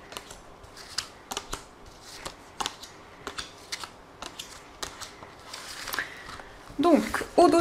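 Tarot cards being shuffled for a card reading, with a series of soft, quick riffling and slapping bursts at an irregular rhythm, close and moderately quiet, and a voice briefly at the end.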